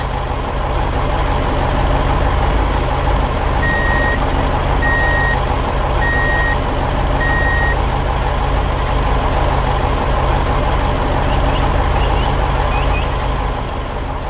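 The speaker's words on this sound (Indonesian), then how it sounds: "Truk itu melaju dengan mantap, membawa beban berat kembali ke arah jalan tadi." Animated dump truck carrying a heavy load, its engine rumbling loud and steady throughout while four evenly spaced reversing beeps sound in the first half, with no talk.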